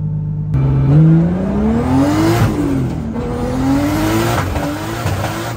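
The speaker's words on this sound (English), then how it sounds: "Oh, it's dead. The tires popped." Nissan 240 doing a burnout, its engine revving hard in rising and falling sweeps with loud tire squeal close by, and sharp pops near the end.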